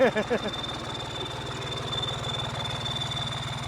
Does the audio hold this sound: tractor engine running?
yes